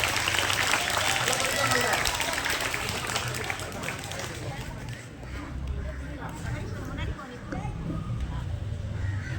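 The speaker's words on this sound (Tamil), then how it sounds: "சபரி மீனாட்சி அனுசரி, இந்த 2 பேருக்குமே பெரிய கைத்தட்டல் கொடுப்போம்." School audience at a middle school event clapping loudly for two children, a dense crowd applause filling the whole stretch with some hubbub, easing slightly midway before swelling again.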